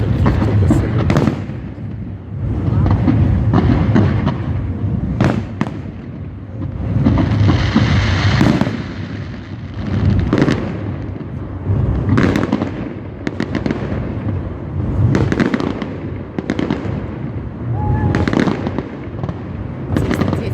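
A 2017 World of Tanks fireworks salute sends out a steady series of loud booms and crackles against wind buffeting the microphone, with people chatting close by.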